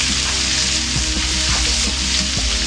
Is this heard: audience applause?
no